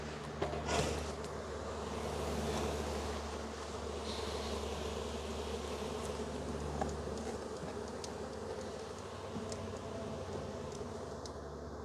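Honey bees swarm around a hive in a dense, steady buzzing drone that fills the whole scene. The hum holds constant with no voices, and occasional closer bees flit past the microphone.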